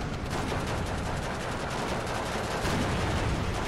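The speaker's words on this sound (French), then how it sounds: "On suit le tir de l'IS-1." Heavy tank guns firing in the WWII strategy game Steel Division 2, including an IS-1 heavy tank, a dense unbroken barrage of gunfire and blasts that stays loud throughout with no talk.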